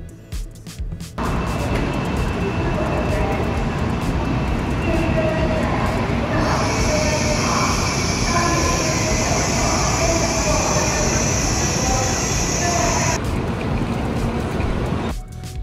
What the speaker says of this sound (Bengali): এই ট্রেনগুলো চলে ঘন্টায় প্রায় ৩৫০ কিলোমিটার গতিতে।